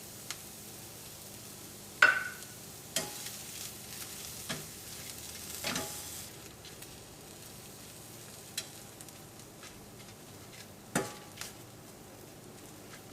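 Bitter gourd fries in a pan as chili powder is stirred in, a steady soft sizzle broken by several sharp utensil scrapes and taps against the pan, close and fairly quiet, with no talking.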